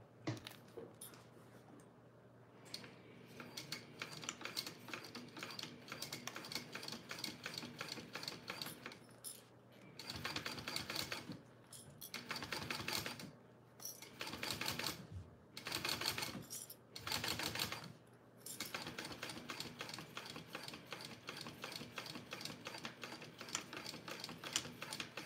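A sewing machine top-stitches a small For Your Cheddar fabric wallet, running in fast rattling bursts separated by short pauses and stops, fairly quiet and close, with no speech.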